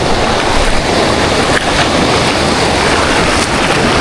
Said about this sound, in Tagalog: Palaki na ng palaki yung alon.